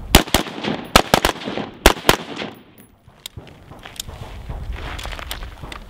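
Rifle shots from a line of shooters at a firing range during a defensive pivot drill, a rapid burst of loud, sharp cracks in quick succession over about two seconds, then a few scattered trailing shots and quieter range noise.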